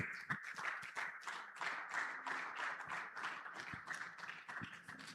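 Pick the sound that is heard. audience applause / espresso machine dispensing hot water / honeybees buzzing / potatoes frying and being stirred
audience applause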